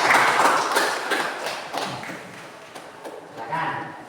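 Applause from a classroom of students welcoming a student group to the front: a dense patter of clapping, loudest in the first two seconds, then thinning and fading to scattered claps and room noise.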